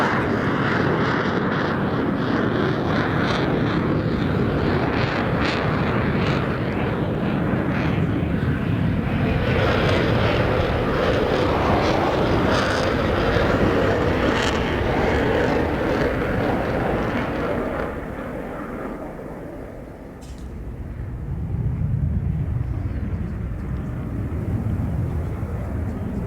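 Saab Gripen fighter jet making a slow, high angle-of-attack fly-past at an air show, a loud sustained jet roar that swells, then fades and returns, with a commentator talking over it.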